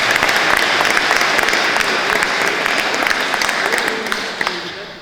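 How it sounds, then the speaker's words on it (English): An audience at a 2014 Donegal County Council election count gives a round of applause for the count staff: sustained, dense clapping throughout that thins and fades near the end. "I would ask everyone to give the staff who conducted this count a round of applause"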